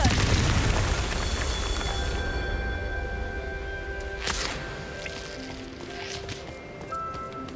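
A Confringo blasting spell in Hogwarts Legacy opens with a deep booming explosion that decays slowly. Sharp bursts and crackles follow later over a sustained rumble.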